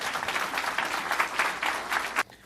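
Audience applause for New York Governor Andrew Cuomo at a Daily News/CUNY Citizenship NOW! event, a steady wash of many hands clapping that stops abruptly near the end.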